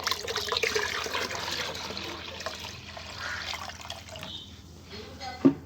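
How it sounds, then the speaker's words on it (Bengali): Liquid plant food for hibiscus being poured into a container of water, a steady close trickle and splash that fades out, ending with a sharp knock near the end. "আরও 1 লিটার জলের মধ্যে আমি দিয়ে দিচ্ছি।"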